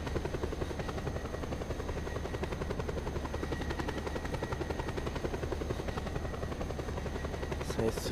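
Helicopter in Just Cause 2, a steady close rotor chop with a fast, even rhythmic beat and engine drone running unbroken throughout.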